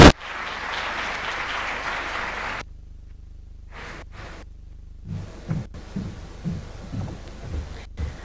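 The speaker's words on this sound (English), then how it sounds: "Another big round of applause for His Excellency." Audience applause after a speech by the UN Secretary-General at an Africa-focused forum, a dense burst of clapping that cuts off after a couple of seconds, followed by near silence and scattered faint bumps and rustles.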